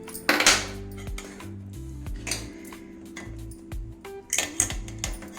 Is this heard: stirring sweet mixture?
yes